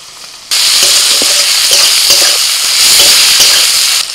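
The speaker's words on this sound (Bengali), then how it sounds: "এবার আমি টমেটো কুচি দিয়ে দিচ্ছি," Chopped tomato hits hot oil with half-fried onion, bursting into a loud, steady close-up sizzle while a spoon stirs and scrapes the pan in short strokes; no talk.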